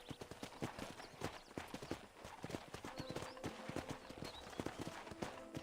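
Horse hooves clip-clop at a steady walking rhythm in the Red Dead Redemption video game, close and distinct, with faint game ambience underneath.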